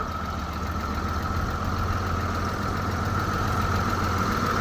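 A tractor used for plowing idles steadily at close range, a continuous low mechanical rumble with a faint knocking pulse and a thin high whine, holding an even level with no voices.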